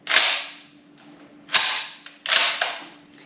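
Firearms being handled and checked to confirm the chambers are clear produce three sharp metallic clacks and snaps, close and loud, each followed by a brief rattling ring.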